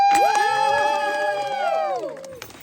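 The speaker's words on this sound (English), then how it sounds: "I'd like everyone to please give a round of applause first to the owners of Garden State Koi, Tom and Nancy Smith." A crowd at a backyard waterfall and fountain reveal bursts into whoops and cheering, with high excited voices and shouts close by before it fades out.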